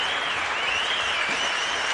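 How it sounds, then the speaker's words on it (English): Standing ovation at a Hall of Fame induction ceremony, dense continuous applause from a large crowd, steady and loud throughout. "And all the inductees are getting a standing ovation here, as they should."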